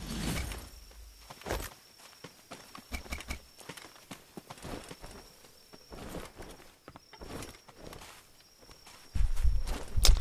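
Footsteps in the video game Naraka: Bladepoint, a run of quick, irregular thudding steps close by over a thin steady tone, with a louder rumble at the end.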